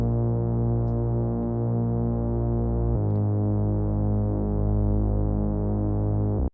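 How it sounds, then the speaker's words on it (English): A detuned, distorted Reese bass synth patch with the low end cut, holding a thick buzzing bass note that shifts pitch partway through, loud and sustained, alone without talk. "This is like a very simple Reese patch. I just detuned one here, added distortion, and low cut it"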